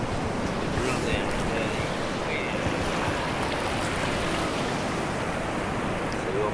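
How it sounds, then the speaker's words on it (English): Pacific Ocean surf on an Australian beach makes a steady, loud broadband roar of breaking waves with wind buffeting the microphone, continuous throughout with no clear pauses. "And ladies and gentlemen from America, that is the Pacific Ocean."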